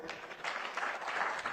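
Audience at a Merck Foundation conference in Banjul, The Gambia, applauding: dense, steady clapping, moderately distant, building slightly and sustained through the short moment with no speech.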